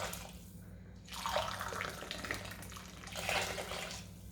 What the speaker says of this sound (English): so that's the water added